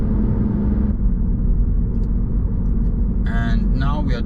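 Car interior while driving through Bauska, a small Latvian city, with a loud, steady road rumble and engine drone throughout. A voice comes in near the end over the noise.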